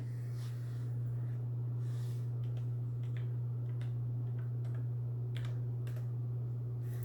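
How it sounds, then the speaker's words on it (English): Password being typed on a computer keyboard, a scattered run of light key clicks over a strong low electrical hum, close and quiet, with no talking. "Let's type the password."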